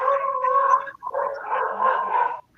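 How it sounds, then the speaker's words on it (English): A Yorkie dog barks and yowls in two drawn-out bursts from downstairs in a house, a close, fairly loud, wavering cry with a brief pause between, with no talk over it. "Oh, it's my dog."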